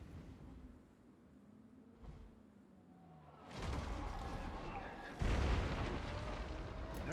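Artillery fire in Total War: Warhammer shells cavalry, a couple of heavy booms landing over a rumbling battlefield din, moderately loud and somewhat distant, with faint voices in the background.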